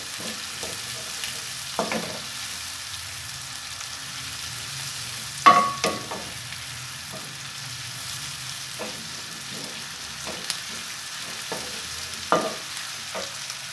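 Okra being stirred in a frying pan, with a soft steady sizzle under occasional scraping and clanking strokes of the spoon against the pan, close up and with no talking.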